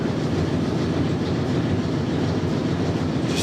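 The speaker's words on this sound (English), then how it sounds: "That's the noise that you hear in the background. Big freaking furnace behind the camera." A large furnace runs in a furnace room, giving a steady, loud broadband rumble that holds constant throughout with no voices over it.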